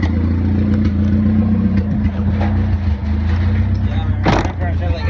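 A turbocharged D16Z6 Honda Civic running on E85 rumbles at steady low idle and then pulls away on a test drive, its engine droning close and loud with a brief rasp near the end and voices talking over it.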